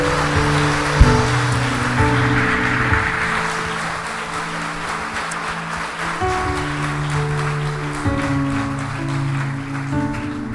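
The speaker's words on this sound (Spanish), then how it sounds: "De un aplauso a estos que recibieron." A church congregation claps for new believers, a dense patter of many hands that sounds almost like rain, running steadily under sustained organ-like musical tones.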